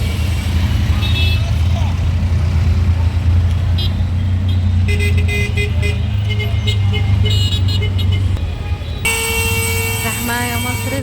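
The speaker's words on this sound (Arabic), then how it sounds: "بصوا ده بقى شارع عين شمس، دايما تلاقوه زحمه وقافش كده ومليان ناس ومليان عربيات" Dense traffic crawls along Ain Shams Street in Cairo, a loud steady roar of cars and trucks broken by honking horns, with voices talking over the din.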